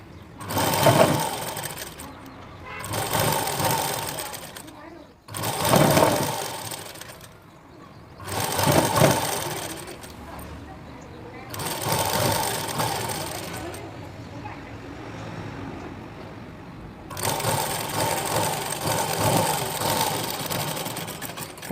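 A sewing machine stitches a long frock in repeated loud, close bursts of whirring, separated by short pauses and ending in a longer continuous run.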